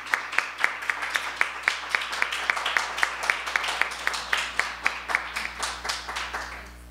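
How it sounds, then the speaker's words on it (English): A small audience at a university talk on citizenship rights in Latin America applauds fellowship winners, with sharp, regular claps at a steady rhythm that hold for several seconds before tapering off. "let's have a round of applause for our 2 fellow winners"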